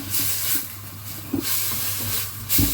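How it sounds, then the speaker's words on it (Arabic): Onions sizzle in hot oil in a home kitchen pan, a steady broadband hiss with occasional louder spits and crackles, close and continuous, no voices. "نبدأ بنزله تشويحه. مش هنحمره، بس احنا هنتبل البصل بتاعنا."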